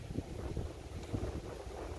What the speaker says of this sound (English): look, my canopy over the table is shaking